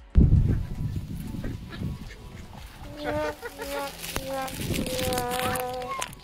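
Ducks quack and honk in a busy cluster nearby, with a voice speaking over the start and background chatter throughout.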